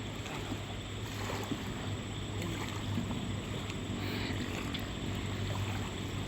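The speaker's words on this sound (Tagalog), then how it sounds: "Bayan na po yung bangka. Malapit na po dito sa tawid." A steady, droning motorboat engine carries across the water toward the crossing, constant and moderately near, mixed with wind and water noise and no talking.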